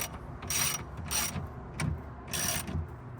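A ratchet clicks in short bursts while tightening a cross bar clamp for a tonneau cover on a GMC Sierra EV pickup. Three or four quick ratcheting runs are separated by brief pauses, close and fairly quiet.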